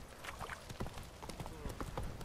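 Horse hooves clip-clopping in The Witcher 3: Wild Hunt, a quick, steady run of soft, close hoofbeats on the ground amid game ambience and other background noise.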